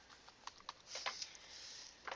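Faint, sparse keystrokes on a computer keyboard as text is entered into a spreadsheet cell, with a few soft clicks spaced out and then a short burst near the end.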